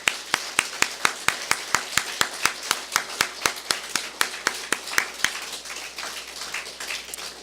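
A crowd claps together in a steady, rhythmic beat at a church pastor's installation service, quite loud and sustained, fading slightly toward the end.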